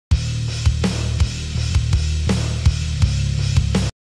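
A dry bass and drum backing track for a metal song, with punchy kick and snare hits over a steady, deep bass line, loud and continuous without any talking.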